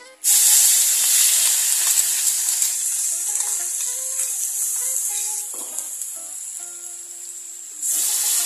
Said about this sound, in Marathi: आता हे हिरव्या मिरचीचं जे वाटण केलं होतं ते आपण याच्यामध्ये घालून परतून घेणार आहे